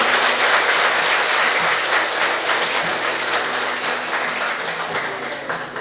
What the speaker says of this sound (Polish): I dla nich wielkie brawa.